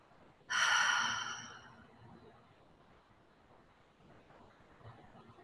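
One deep breath comes as a loud, airy rush lasting about a second, then fades into quiet room tone with faint low rumbling.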